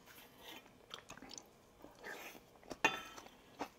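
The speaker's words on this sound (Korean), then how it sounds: "간장 순살게장 먹어볼게요" Someone eats boneless soy-sauce marinated crab, close, soft wet bites and chewing with small squishy crunches and slurps, scattered irregularly across a quiet background.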